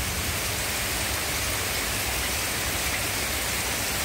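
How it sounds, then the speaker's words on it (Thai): Heavy rain falls steadily in the evening, a dense, loud, unbroken hiss of water pouring down and running off across a lawn, with no voices. "ก็ถือว่าตกแรงเนาะตกแรงมากนะครับฝน"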